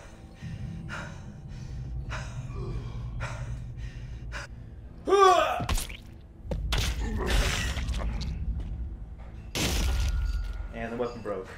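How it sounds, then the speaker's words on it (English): A weapon breaks with a brief crack in The Walking Dead video game, set among gasps, grunts and excited vocal reactions from a player throughout. "And the weapon broke."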